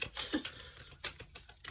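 Eternal Crystal oracle cards being shuffled by hand off to one side, giving a soft, irregular patter of papery riffles and flicks with small bursts of snapping, fairly quiet and without any talk.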